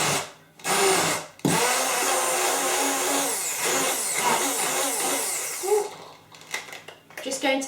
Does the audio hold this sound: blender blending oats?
yes